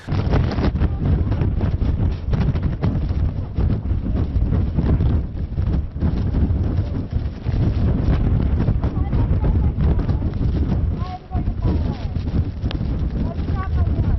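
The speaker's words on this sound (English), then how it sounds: "these gusts are really picking up" Strong wind gusts batter a reporter's microphone outdoors during a winter weather news broadcast, with temperatures around 24 degrees. The rumbling roar is loud and continuous and nearly constant throughout, with only a brief dip.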